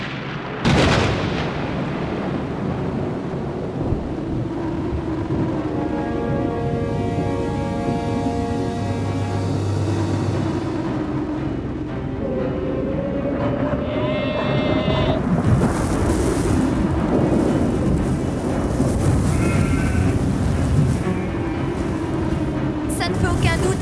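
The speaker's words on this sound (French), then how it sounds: "C'est une tempête de sable qui est en train de se former." Sandstorm in the desert with thunder and wind, a steady loud roaring rumble with heavy low booms, with a dramatic voice and other tonal sounds layered over it throughout.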